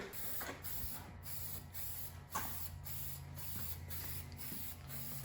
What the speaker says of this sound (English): on this side, we're gonna hit it with yellow primer, just like the factory would have ordered